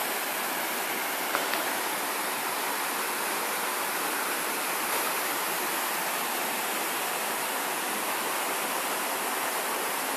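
A steady, dense roar of falling water at Ghora Mar Waterfall fills the whole clip, broadband and unbroken, close by with no voices.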